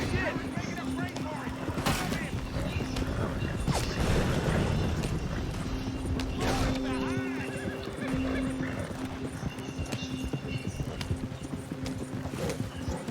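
Horse neighing and clip-clopping hooves in the video game Red Dead Redemption 2, a whinny rising over steady hoofbeats and mechanical creaks, with someone talking at times.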